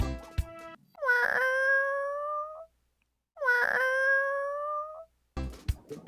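A cat gives two long, drawn-out meows close by, separated by a short silence, with a few clicks and bumps around them.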